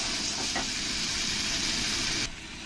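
Fried potatoes stirred into a masala of soybean and mushroom hiss and sizzle steadily in hot oil, a loud continuous frying noise that drops slightly in level near the end.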